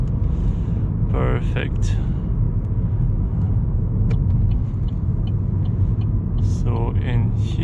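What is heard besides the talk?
2013 Vauxhall Astra 1.4 SRI engine accelerating through gears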